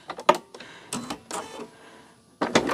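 Sewing machine stitching a fabric seam on a pumpkin quilting project, heard in short mechanical bursts separated by pauses, close and moderately loud with no talking.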